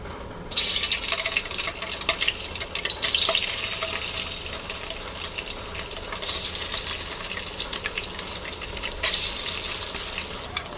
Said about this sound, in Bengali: এবার পনিরটা ভেজে নেব।